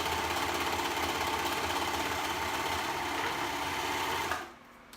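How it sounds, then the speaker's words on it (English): Sewing machine running steadily while stitching the shoulder seams of a tulip garment, a loud continuous motor whir with rapid needle rhythm that stops abruptly near the end. "We put together the shoulder seams, and now we're gonna sew them together."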